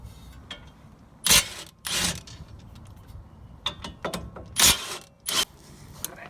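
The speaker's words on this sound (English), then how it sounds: "grab a 17mm, unscrew this bolt as well as the bolt on the bottom" A 17mm wrench works the brake caliper bolts loose on the front brakes of a 2013-2017 Toyota Corolla, giving close, intermittent metallic clanks and ratcheting clicks with short pauses between bursts.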